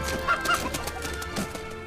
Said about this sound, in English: We managed to step on that chicken and it lived.